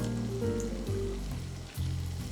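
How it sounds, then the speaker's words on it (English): Prawns sizzling in melted butter in a pan: a soft, continuous frying hiss under steady background music with sustained tones. "Now that the butter is pretty much melted, we're going to add in our prawns."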